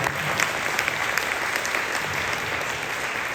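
Steady audience applause fills the whole stretch, a dense patter of many hands clapping at an even level with no voices over it.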